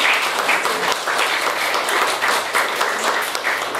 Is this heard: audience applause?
yes